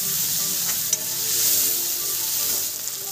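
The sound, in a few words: chopped tomato sautéing in pan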